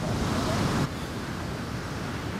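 Ocean surf at the Roxy Pro France 2017 surf contest makes a broad, continuous roaring wash with wind noise, loud at first and dropping slightly after a sudden cut, with no clear voices.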